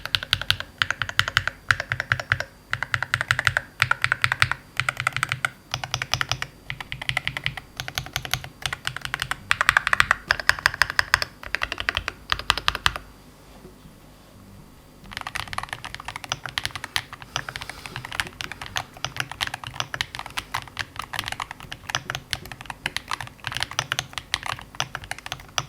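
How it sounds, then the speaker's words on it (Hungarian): Someone types on a Wooting 60HE v2 keyboard with Wooting switches in a Tofu Redux case. Fast, close, continuous key clacks run throughout, with a brief quiet pause about halfway before the typing resumes. "hallgassuk meg, hogy milyen lett ez a billentyűzet a Wooting kapcsolóival és ezzel a Tofu Redux házzal"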